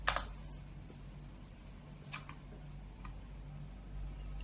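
Keys tapped on a computer keyboard while a command is typed in a terminal, a few quiet, light clicks spread out unevenly over a steady low background hum.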